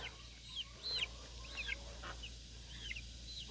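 Half-grown lavender Orpington chickens give soft, scattered chirping clucks, several short calls over a quiet low hum, faint and a little distant.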